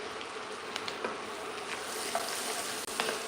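Onion and carrots sauté in a pan with a soft, continuous sizzle and crackle, broken by a few small stirring clicks, close and on their own with no one speaking.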